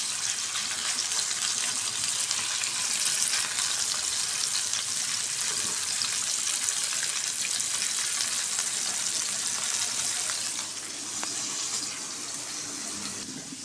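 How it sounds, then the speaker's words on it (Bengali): Snakehead fish coated with turmeric frying in hot oil, giving a steady, close sizzle and hiss that continues throughout and eases slightly toward the end. "তেলের উপরে দিয়ে ভালো করে ভেজে নেব মাছটা"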